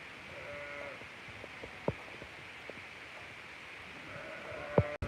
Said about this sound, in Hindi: ये रेवड़ जा रहे हैं अब अपने घर में वापस।